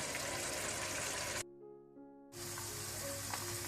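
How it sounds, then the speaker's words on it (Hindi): Minced meat fries in a pan for lasagna with a broad, steady sizzle up close, cutting out briefly to near quiet before the hiss resumes. "कीमे को आपने अच्छी तरह से भून लेना है।"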